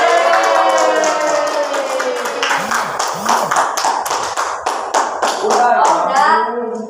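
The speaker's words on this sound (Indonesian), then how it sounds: "Kita beri tepuk tangan buat" A classroom of students in a microteaching lesson chants along in unison, then claps in a series of crisp, patterned beats that continue under the voices for several seconds.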